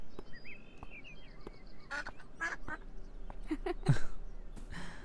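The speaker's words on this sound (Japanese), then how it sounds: "アヒルさんだね。" A duck quacks in the video game Beyond Eyes, with a few short, faint calls scattered over a soft game ambience and light speech.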